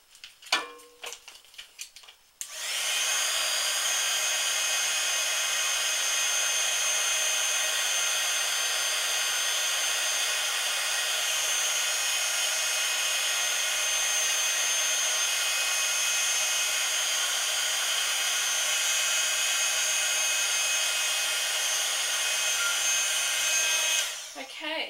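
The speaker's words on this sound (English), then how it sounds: "And again, you're heating it with the heating tool." A heat gun blows hot air steadily at close range for over twenty seconds, a loud continuous whoosh with a faint whine, cutting in abruptly after a couple of seconds of handling noise and stopping at the very end.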